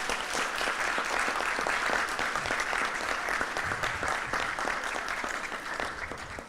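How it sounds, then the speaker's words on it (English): An audience applauds a young lady at a welcome event at the Hilton Barbados, dense steady clapping from many hands filling the room for several seconds and easing slightly at the end. "I want you to give this young lady a round of applause"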